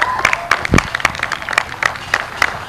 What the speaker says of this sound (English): Let's give a big round of applause for Mark Pederson, everybody.